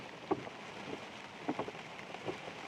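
Steady heavy rain hisses across the whole clip, with a few louder drops or taps standing out now and then; no voices.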